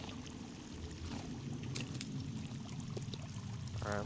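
Water being drunk in the survival video game Sons of the Forest, a steady pouring, trickling wash that runs continuously through the clip, with a short bubbling burst near the end.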